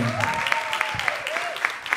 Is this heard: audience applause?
yes